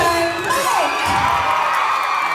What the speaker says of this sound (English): Listen to this PW225 crowd at the LM Lockhart.